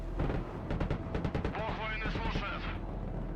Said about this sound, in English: Okay, so artillery.